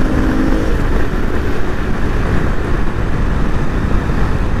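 A Yamaha R15 V3 motorcycle engine revs up under acceleration, a loud, rough, continuous drone mixed with wind rush, close to the rider.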